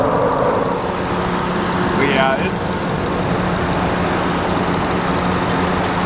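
A RAM 2500 HEMI pickup's engine cooling fan keeps running after the truck tows up a steep grade, a steady broadband whoosh over a low idle hum, while someone talks briefly nearby.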